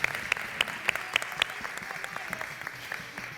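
An audience at a traditional costume festival in Zamora, Spain, applauds with distinct sharp claps standing out over a softer crowd clapping that thins and fades, fairly quiet overall.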